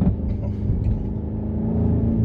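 2018 BMW M5 sedan accelerating hard, a loud, steady low engine roar with rising harmonics heard from inside the cabin, continuous for about two seconds with no talk.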